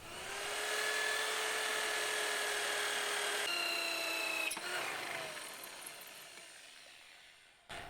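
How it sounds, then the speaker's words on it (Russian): A power drill whines steadily at a high pitch while boring a hole in a garden gate, dropping slightly in tone midway, then winding down and stopping near the end. "сейчас мы возьмем дрель и отверстие это просверлим."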